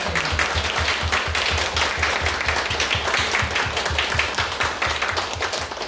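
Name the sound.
congregation clapping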